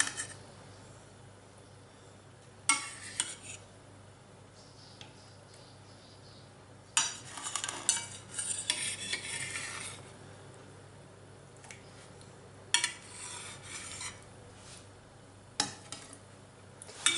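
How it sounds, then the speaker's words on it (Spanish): Cod loins being placed into sauce in a pan for bacalao a la vizcaína, quiet soft clinks and squishy scraping bursts over a faint low background hum, close and intermittent. "Voy a añadir lo que es los lomos de bacalao."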